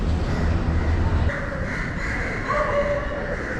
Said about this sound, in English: The noises of Kandy railway station. Crows and dogs.